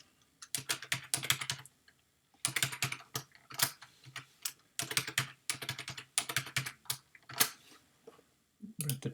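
Fingers type a password on a computer keyboard in quick clusters of close, crisp key clicks, separated by short pauses in a quiet room.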